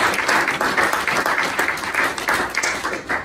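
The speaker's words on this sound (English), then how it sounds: "Let's another round of applause for all the ladies this evening." An audience claps through an evening poetry reading event, dense, continuous applause from a roomful of people filling the whole stretch at steady loudness.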